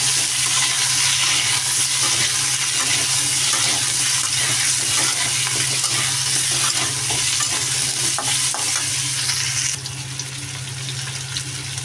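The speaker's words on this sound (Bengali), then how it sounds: "দেখো আলু কুমড়োটা কিন্তু ভাজা ভাজা হয়ে যাচ্ছে" Pumpkin and potato pieces sizzle in a pan of hot oil with cumin seeds, a steady loud frying hiss running throughout, softening slightly near the end, with no talk over it.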